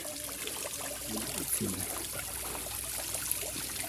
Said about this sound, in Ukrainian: водоспадик такий невеличкий